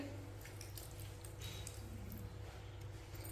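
Raw chicken pieces are mixed by hand with salt and lemon juice in a quiet, wet marinade, giving soft squelching and squishing sounds over a low background hum.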